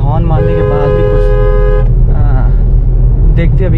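A car horn blares in a long sustained honk for nearly two seconds over a steady engine and road rumble on an Indian highway, then cuts off as traffic noise continues.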